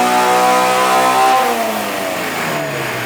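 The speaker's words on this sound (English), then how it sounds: "We're just gonna do a pull, no modifications, and then we're gonna dyno tune off of that." A K-swapped car engine revs up hard and loud on a dyno pull, its pitch climbing steadily through a sustained pull before easing off slightly near the end, with no talking.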